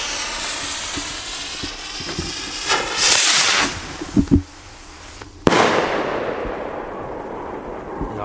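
A rising whoosh and hiss from a launching firework rocket, followed by a couple of sharp pops and then a loud bang with crackling afterward, the rocket breaking up as a small burst.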